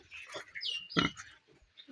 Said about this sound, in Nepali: फेरि प्योर कालो सुँगुर हो यो बुँगुर होइन लोकल